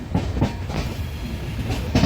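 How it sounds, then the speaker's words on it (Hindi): A passenger train on the Goa to Kerala coastal route pulls into Mangaluru station, its wheels clacking over rail joints in a steady rhythm, loud and close, with no voices. "हमारी ट्रेन अब मंगलुरु रेलवे स्टेशन के प्लेटफॉर्म पर पहुंच चुकी है"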